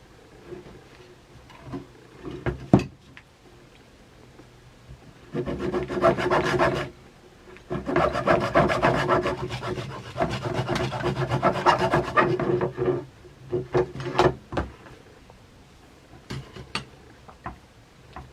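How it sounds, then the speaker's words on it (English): Hacksaw cutting a salvaged part held in a vise, a close rasping back-and-forth stroke sawing in a steady rhythm, with a few isolated scrapes and clicks before and after the main run of cutting. "hacksaw and salvage this part"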